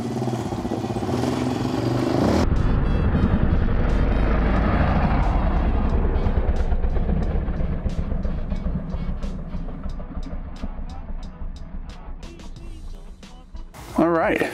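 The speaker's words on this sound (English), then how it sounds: "hopefully you guys can hear Dan ripping around on the four-wheeler that's about to go over this flask" A four-wheeler quad bike rides around on dirt near a glass flask. A loud, steady engine roar with rattling clatter is close at first, then gradually fades as the machine moves off, with a voice briefly at the end.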